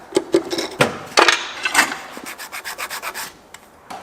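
A shaft is trimmed by hand before its tip is attached, making a series of close, dry scraping and rubbing strokes in an irregular rhythm, with quiet pauses between them.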